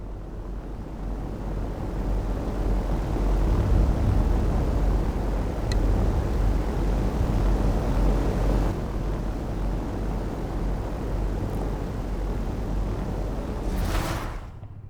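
An Austin taxi racing a hovercraft downhill in Forza Horizon 4, a video game: a steady, loud roar of engine and rushing air that holds almost unchanged throughout, with a brief hiss near the end.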